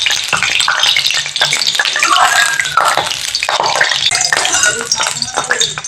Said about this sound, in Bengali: খুন্তিটা ধুয়ে আনলাম, তাই খুন্তিতে একটু জল ছিল, সেই জলটা তেলের মধ্যে লেগেছে।